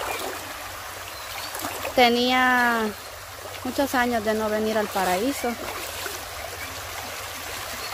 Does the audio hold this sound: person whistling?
no